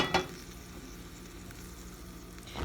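Ground beef sizzles and fries in a dry frying pan, cooking in its own grease. A steady, quiet crackle runs throughout, with brief stirring clatters at the start and end.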